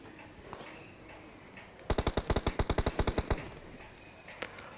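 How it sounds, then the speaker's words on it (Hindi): A rapid burst of about fifteen evenly spaced gunshots rings out in a battle royale video game, loud and close after a quiet stretch, with faint scattered sounds before and after. "यहाँ पर बंदों की फायरिंग लगातार आते हुए"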